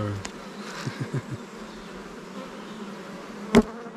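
Honeybees buzzing close by among beehives, a steady droning hum with a few louder passes and a brief sharp knock near the end, no talk.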